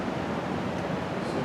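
A swamp cooler fan runs inside a building on a 100-degree day. It makes a steady broadband whoosh like rushing air, fairly faint and unbroken throughout.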